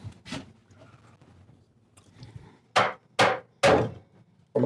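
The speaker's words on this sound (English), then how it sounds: "Get my little hammer." Small hammer tapping on a turn-of-the-century hand-carved wooden chair, a few faint soft knocks followed by three sharp, louder taps in quick succession, close by in a quiet room.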